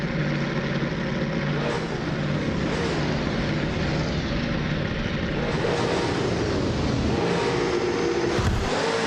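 Racing game car engines at the Daimler Teststrecke, a pack led by a 2015 Ford Falcon FGX, roaring in a loud continuous drone with rising and falling pitch as the cars pass.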